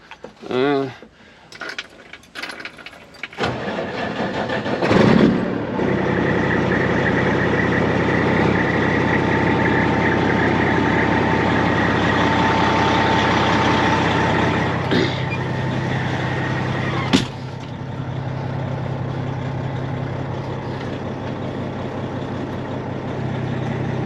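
A truck engine idling steadily with the clutch pushed in, a low continuous rumble running for most of the stretch after some early knocks and handling noises, with a sharp click near the end.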